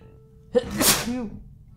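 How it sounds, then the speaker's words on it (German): A single real human sneeze bursts out loudly and close, a sharp intake followed by a breathy explosive release, alone over quiet game background music. "Und gleich muss ich niesen."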